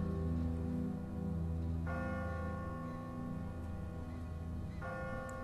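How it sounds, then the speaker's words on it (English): Church bell tolling from a bell tower in The Walking Dead video game, two deep, ringing strikes a few seconds apart, each sustaining a long resonant hum over a low background drone. "Ask not for whom the bell tolls."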